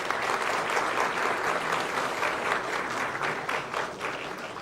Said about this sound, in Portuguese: Peço uma salva de palmas para os familiares que estão aqui.